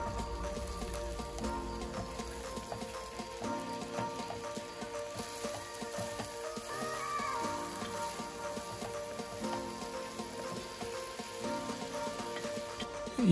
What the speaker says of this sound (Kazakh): алдын ала тазаланған жасымығымызды салып, тағы да 1-2 минуттай қуырып аламыз